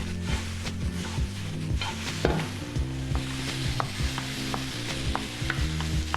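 Sweet potatoes stirred and flipped in a pan with a steady low sizzle, broken by scattered scrapes and taps of a utensil against the pan.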